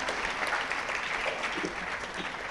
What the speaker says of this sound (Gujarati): ખરેખર આ લોકો ખૂબ ખૂબ તાળીઓના હકદાર છે